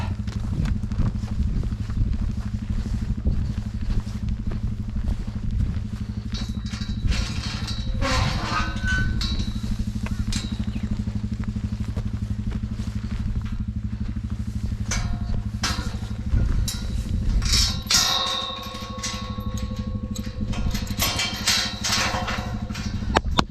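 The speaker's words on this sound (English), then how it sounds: "Now go and put the bike away, and we are finished." A motorbike engine runs steadily nearby on a farm, a low continuous drone with some clatter, knocks and brief mechanical sounds over it.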